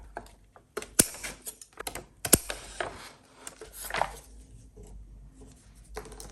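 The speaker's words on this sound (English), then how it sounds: "I'm going to remove these handles by just cutting them off." Scissors cut the handles off a paper grocery bag near the glued seam, giving sharp crisp snips and paper rustles in an irregular rhythm, close and fairly quiet.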